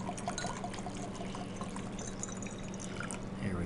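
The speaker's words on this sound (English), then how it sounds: "Again, I'm going to pour some water into a second beaker." Water is poured into a glass beaker during a chemistry demonstration, a steady trickling stream that carries on throughout at moderate volume.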